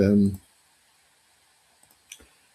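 A computer mouse gives a few faint, sharp clicks on a software tab in a quiet room, one soft click followed by a slightly louder one, just after a short burst of speech.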